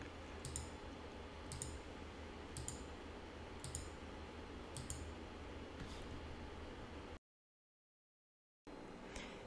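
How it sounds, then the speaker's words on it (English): Faint, sharp mouse clicks tap out at a roughly even rhythm over low background hiss while starting an interactive code animation, followed by a short stretch of complete silence. "Click the Start Animation button to launch the interactive animation."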